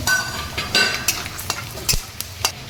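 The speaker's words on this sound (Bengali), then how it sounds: "এখানে আমি কিছু চিনেবাদাম নিয়েছি, সেগুলো আমি হালকা করে ভেজে নেব" Peanuts fry lightly in a pan under a soft sizzle, with sharp scrapes and rattling stirs of a spatula coming at irregular moments, close and fairly loud.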